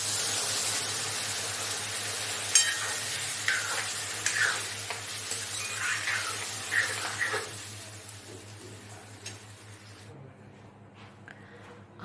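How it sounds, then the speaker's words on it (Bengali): Potatoes frying with poppy seeds as water is added to the pan: a close, hissing sizzle with scraping stir strokes and liquid splashes that gradually subside, ending in near quiet. "পরিমাণ মতো জল দিয়ে নেব।"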